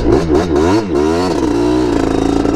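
A Yamaha TRI-Z 250 three-wheeler engine revs hard on sand dunes, surging and falling in pitch a few times before settling into a steady loud drone up close.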